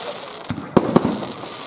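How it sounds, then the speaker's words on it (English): New Year's Eve fireworks over Huskisson, NSW, heard from close to the launch site: a few sharp, loud booms and crackles in quick succession over a steady crowd murmur. "we are underway with the Huskisson New Year's Eve fireworks"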